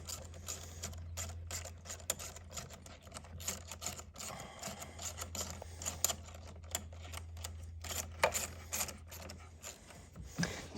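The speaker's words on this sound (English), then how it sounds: "Once you get that hose clamp aligned and the hose intake, then you can just tighten it back up." Rapid mechanical clicking and ratcheting from a tool tightening a hose clamp on the intake hose of a MK8 Golf R, steady and close, over a low constant hum.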